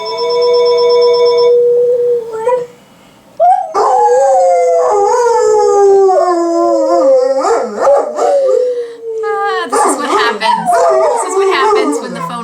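Dogs howl loudly and continuously in drawn-out, wavering wails after a telephone rings at the start; several voices overlap near the listener.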